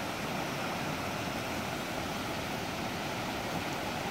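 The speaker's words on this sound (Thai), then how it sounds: "นี่เครื่องปั่นไฟ" A generator runs steadily beside a river in rural Laos, a constant broadband hum and rush that holds at an even, moderate level with no voices.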